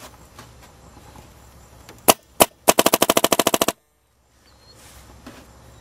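A completely stock Matrix paintball marker fires two single shots, then a rapid burst of about a dozen sharp pops, loud and close, before the sound cuts to near silence.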